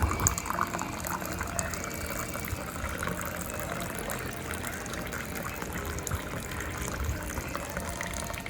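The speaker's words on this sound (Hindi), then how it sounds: "आप किसी कप में मग में डालिए और ऊपर से गर्म पानी डाल दीजिए।" Hot water pours onto green tea bags in a cup or mug, a continuous close splashing fill that runs steadily throughout with no speech.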